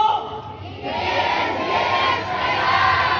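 A large crowd at a Cebu movie ticket-selling event shouts a chant together, loud and sustained, with a steady roar of voices that swells after the first second and keeps going.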